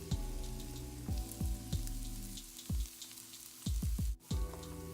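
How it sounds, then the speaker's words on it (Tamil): Onions sautéing in a pan with crushed garlic for prawn thokku give a steady close sizzle, broken by several sharp clatters of a spoon stirring against the pan and a brief dip near the end. "வெங்காயத்தை நல்லா வதக்கிக்கலாம்."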